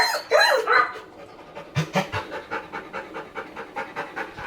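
A found puppy pants rapidly and steadily in a backyard, the quick rhythmic breaths close and clear after a brief burst of higher whining noise at the start.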